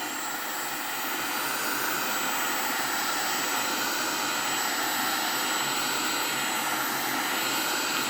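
A Black & Decker KX1650 heat gun blows hot air at MDF wood, a loud, steady rushing hiss that swells slightly in the first second and then holds constant and close.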